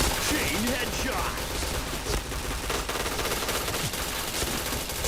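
Rapid bursts of gunfire from a shooter video game rattle continuously over dense, loud game sound, with a player's voice talking now and then.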